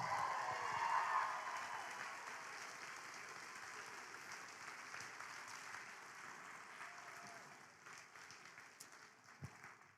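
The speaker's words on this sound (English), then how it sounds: "How about one more round of applause for our 8th grade class?" Applause for an 8th grade class at a school awards and promotion ceremony, faint and distant, swelling briefly at the start and then thinning out over a quiet hall.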